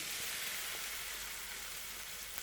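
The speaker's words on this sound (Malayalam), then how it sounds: "ഇനി ഇതിലേക്ക് മിക്സ് ചെയ്ത് വെച്ച കോളിഫ്ലവർ ഇട്ട് ഫ്രൈ ചെയ്തെടുക്കാം" Batter-coated cauliflower for gobi manchurian fries in hot oil, giving a steady, dense, close sizzle that runs without a break.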